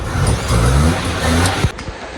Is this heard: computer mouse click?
no